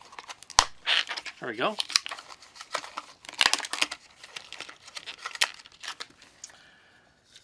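Blister-pack plastic around a Work Sharp Pivot Plus knife sharpener is cut open, giving close crinkling, crackling and sharp snipping sounds in irregular bursts while someone speaks briefly.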